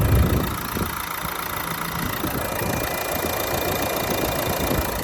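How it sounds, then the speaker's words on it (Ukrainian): Renault Megane 4 from 2018 with a 1.5 diesel engine idling, a steady close rumble with a light knocking texture that holds evenly throughout, with no talk over it. "Дуже гарно працює двигун."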